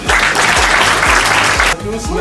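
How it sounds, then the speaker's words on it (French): Audience applause at a French gathering, a dense wash of clapping under a steady musical beat with low thumps, thinning slightly near the end. "on peut l'applaudir encore."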